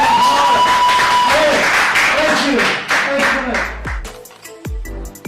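Audience applause for a performer at a magic-style comedy show, loud close clapping with a voice talking over it, tapering into scattered single claps and thuds toward the end.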